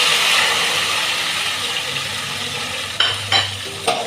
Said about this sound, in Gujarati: આપણે આમાં જે અઢીસો ટમાટર મેં કટ કરીને રાખ્યા હતા એ એડ કરીશ